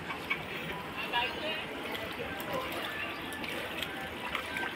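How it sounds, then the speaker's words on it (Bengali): Rainwater floods a street after a night of rain, making a continuous rushing, splashing wash of moderate loudness with indistinct voices faintly behind it. "কালকে সারা রাত্রি বৃষ্টি হয়েছে, যার জন্য একদম এত জল হয়ে গেছে রাস্তার মধ্যে"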